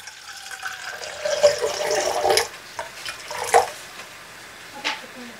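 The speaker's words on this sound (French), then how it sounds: "je vais peser 200 ml d'eau et je vais mettre 2 sachets de levure à l'intérieur" About 200 ml of water is poured for bread dough made with 500 g of flour and two sachets of yeast, an irregular close splashing with short bursts of trickling and clinks.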